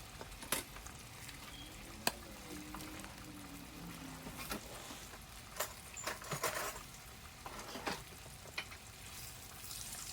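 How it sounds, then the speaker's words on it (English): Salmon frying in a pan alongside a pot of boiling milk, a soft continuous sizzle broken by scattered crackles and pops, with faint utensil stirring sounds, fairly quiet and without speech. "So the milk is boiling, guys, and the fish is frying"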